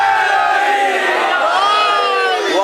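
A large religious gathering, a majlis in Railway Colony, Wazirabad, shouts a devotional slogan in unison: a loud, sustained roar of many voices that holds steady through the clip and swells slightly near the end.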